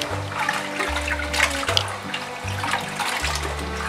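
Octopus is rinsed clean under a running tap, with water splashing and gushing steadily up close. Low pulsing tones repeat through it, and no one speaks.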